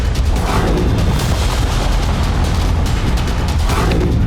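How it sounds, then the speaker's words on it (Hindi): Deep, rumbling explosion at a burning oil depot in Oryol, Russia, at night, a loud sustained low roar with crackling bursts throughout and no pauses. "22 दिसंबर को यहां ज्वालामुखी जैसा ब्लास्ट हुआ"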